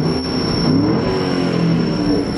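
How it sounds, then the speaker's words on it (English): A 2007 Ford Mustang GT California Special with a 300-horsepower engine revs its exhaust in a short, throaty burst, close and fairly loud, with a thin steady whistle sitting in the background. "That exhaust sounds amazing."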